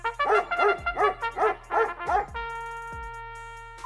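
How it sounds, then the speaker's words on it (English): A pack of dogs on a highway at night barks in a quick run of about six close, sharp barks, followed by a sustained whine or tonal hum with a couple of softer yips. "Of all the things to expect on a highway at night, a pack of dogs definitely wasn't one of them."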